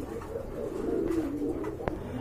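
A grizzle double-bar pigeon of the Afsan type coos steadily close by in a low, throaty rolling call, with a brief sharp click near the end and no talking.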